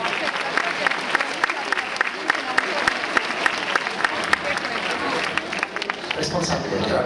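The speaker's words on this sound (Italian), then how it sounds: "Un applauso alla nostra madrina Fabrizia D'Ottavio." Steady applause from a crowd at an Italian charity football match, greeting the match godmother Fabrizia D'Ottavio, with a voice over a loudspeaker running through it and the clapping rippling on for several seconds.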